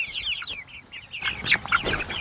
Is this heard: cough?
no